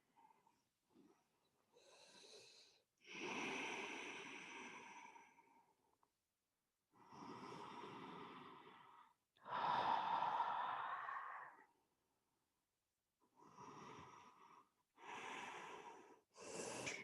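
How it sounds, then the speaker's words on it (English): Slow, deep breaths during a yoga pose, several long audible inhales and exhales spaced by short silences, close and clear with no talking. "and breathe here"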